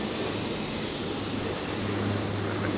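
A Qantas Link Dash 8 Q400 turboprop departs the runway at Brisbane Airport, heard as a steady, broad engine roar with a low propeller drone that holds throughout.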